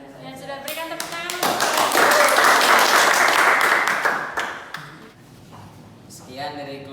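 Audience applause at a teaching performance assessment session in Yogyakarta, a dense wash of clapping that swells, holds steady for a few seconds and then fades, with voices speaking before and after.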